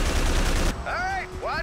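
Heavy, rapid gunfire rattles in a dense burst in the first-person shooter Haze, then cuts off as a shouting voice takes over, with occasional shots continuing faintly beneath.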